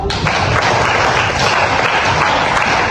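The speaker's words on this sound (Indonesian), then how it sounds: "Boleh tepuk tangan buat Meisha." A group applauds in a classroom setting, dense and loud clapping that stays steady from start to finish before cutting off.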